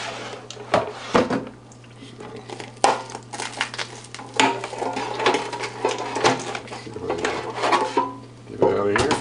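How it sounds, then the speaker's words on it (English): A Gourmia 8-quart air fryer holding a whole cooked chicken is shifted across a kitchen counter, giving scattered clattering knocks and scrapes over a steady low hum. "I'm moving the cooker over so I can get it out on the cutting board."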